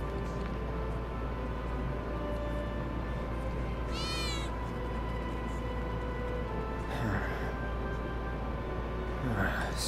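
In Final Fantasy VII Remake, a cat gives a few meows against a steady droning game ambience, with a higher meow early on and softer, lower ones near the end.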